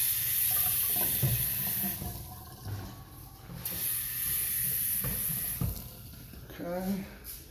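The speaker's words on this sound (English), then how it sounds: "Faucets." A bathroom faucet runs water into a sink during a walkthrough of a house, a steady rushing hiss that continues throughout with faint voices and brief knocks in the background.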